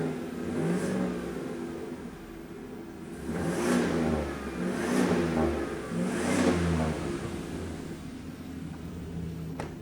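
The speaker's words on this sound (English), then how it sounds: "I'll rev it in the back." A single-turbo 5.3 Chevrolet Silverado V8 running through a Flowmaster exhaust revs several times from behind the truck, each rise to a throaty swell easing back to a steady idle, heard at moderate distance.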